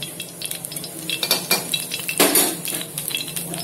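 Mustard oil poured into a hot iron kadhai, a soft hiss and light sizzle swelling near the middle, with faint metal clinks from utensils against the pan, close up and without talking.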